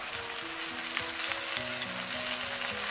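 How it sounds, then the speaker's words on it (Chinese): Seasoning sauce hitting a hot clay pot over cabbage leaves and pan-fried tofu, giving a loud, even sizzle that hisses continuously at close range, with a few soft scraping touches and no talking. "把调好的料汁全部给倒进来，"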